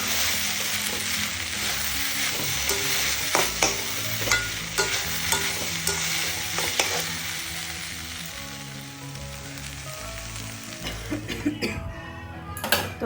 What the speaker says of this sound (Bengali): এখন চিনি দিয়ে ভালোভাবে নেড়ে নেব।